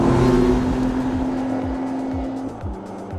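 A McLaren Artura Spider's combustion engine drones steadily while driving, with a sustained tone that shifts midway as the revs change, heard up close from inside the moving car.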